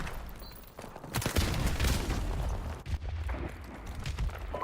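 Rapid bursts of gunfire in the video game Call of Duty Modern Warfare Remastered, a dense, noisy fusillade of shots that swells and continues throughout at moderate loudness.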